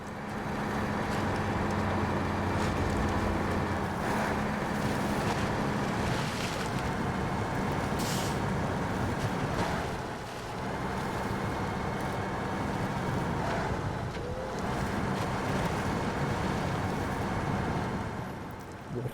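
A heavy off-road truck in SnowRunner churns through deep swamp water, a continuous loud engine drone layered with sloshing and splashing that swells and dips as it pushes across the crossing.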